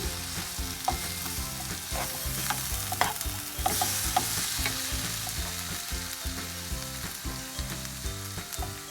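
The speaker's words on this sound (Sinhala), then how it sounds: "දැන් චූටියට කපාගත්ත තක්කාලි කෑලි ටික එකතු කරනවා. ඒකටම සෝයා සෝස් මේස හැන්දක් එකතු කරනවා." Tomato pieces and soy sauce fry in a pan for mixed fried rice, giving a constant close sizzle with steady scraping stirs that recur through the whole stretch, no voices.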